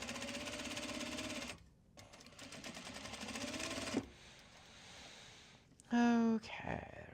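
A sewing machine stitches the seams of a belt bag made from an obi, first running steadily, pausing briefly, then resuming in a quieter rapid whir before stopping, followed by fabric handling sounds.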